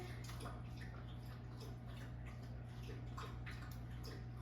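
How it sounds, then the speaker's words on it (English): Soft, quick wet laps repeat in an uneven rhythm over a steady low hum, close and quiet, like a dog drinking from a bowl. "Hold on while my dog drinks her water."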